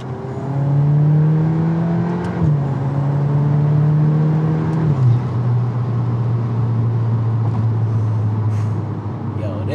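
Close and loud, a VW Golf R MK8 with an open air intake accelerates hard through several gear pulls, each rising engine whine cut by a brief dip at the shift, then settles into a steady roar.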